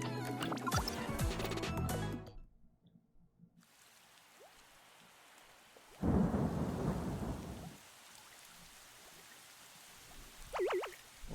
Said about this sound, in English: Rain's coming down harder.